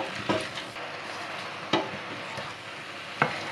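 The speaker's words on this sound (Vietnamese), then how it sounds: "liên tục đảo cho tôm chín" Rinsed dried shrimp stirred continuously in a hot pan or pot over high heat, giving a steady close sizzle. Occasional sharp scrapes and clacks mark the spatula moving the shrimp.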